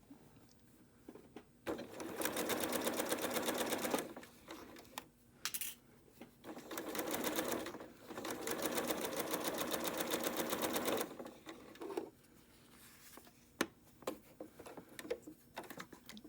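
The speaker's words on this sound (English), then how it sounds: "we're just going to sew on the line" Sewing machine stitching along a marked line on a maple leaf quilt block, set to a regular foot, running in several steady bursts of rapid mechanical rattling separated by pauses and faint handling clicks.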